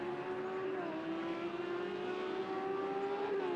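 GT3 race cars, a Lamborghini among them, run at the Red Bull Ring in a racing game, giving a steady, faint engine drone with a slowly rising pitch and no talk.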